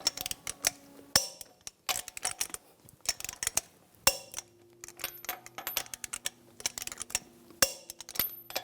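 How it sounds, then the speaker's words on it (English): A torque wrench tightens lug nuts to 140 foot-pounds in a cross pattern on a 2007-2014 Cadillac Escalade wheel, giving close, crisp metallic clicks and ratcheting bursts in irregular clusters with short quiet gaps. "Now I'm going to torque the lug nuts to 140 foot-pounds in a cross pattern to tighten the wheel down"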